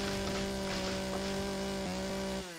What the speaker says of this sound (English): maybe we'll get more with the chainsaw